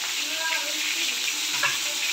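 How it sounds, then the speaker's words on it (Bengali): Potatoes frying in a pan with oil, a steady close sizzle and crackle running throughout with no speech over it. "আর এদিকে এটা ভাজা হচ্ছে"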